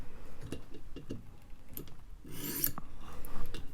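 Knife blade drawn across a 1200-grit whetstone in short repeated rasping strokes, close and fairly quiet, with a gritty scraping rhythm and no talking.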